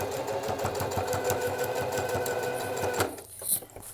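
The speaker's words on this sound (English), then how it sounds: "And then we're just going to sew straight across." A sewing machine runs a straight line of stitches across fabric, a rapid even mechanical chatter that stops abruptly near the end, followed by a couple of faint handling clicks.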